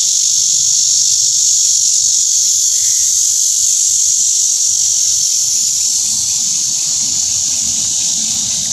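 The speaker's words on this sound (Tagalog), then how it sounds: "Pasensya pa rin kayo mga kasunggab sa ingay ng mga kuliglig." Crickets shrill steadily around a pine tree outdoors, a dense continuous high buzzing chorus that stays loud and unbroken throughout, with a faint low rumble underneath and no talking.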